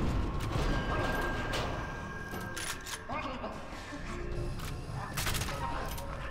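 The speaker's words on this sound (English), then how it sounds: "Wait, I fired a pistol still." Pistol gunfire in the shooter game F.E.A.R. 2, several sharp cracks and mechanical clicks spread through a dense, busy game soundscape under a speaking voice.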